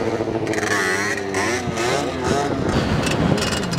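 Motorcycle engines revving at a racing event in Odesa, loud and close, with rising and falling pitch as the bikes accelerate and pass, no talking.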